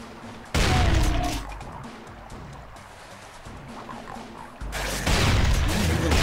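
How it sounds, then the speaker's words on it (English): A shotgun fires in the PC video game Brutal Doom: two loud, booming blasts several seconds apart, with dense, roaring game noise filling the gap between them. "Man, I love the shotgun."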